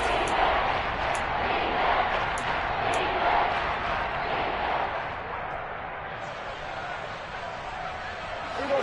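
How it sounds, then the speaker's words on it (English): A football stadium crowd roars in a steady, dense wash of cheering ahead of a big third down in a Cowboys vs Seahawks game, fading slightly toward the end. "The crowd getting into it as we come up on a big 3rd down."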